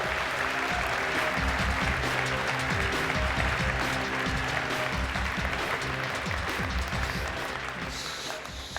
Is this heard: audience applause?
yes